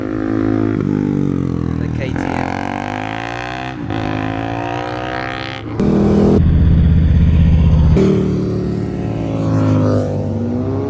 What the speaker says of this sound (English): Here comes the R7.